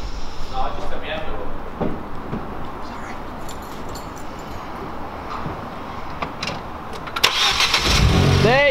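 A Ford Fiesta's engine cranks and catches after a stretch of background noise and voices, then settles into a loud running rumble close by.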